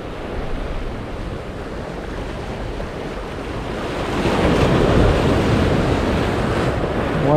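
Rough, high sea waves pounding the shore during shore jigging in Israel, a continuous roar of surf with wind buffeting the microphone, swelling louder toward the end.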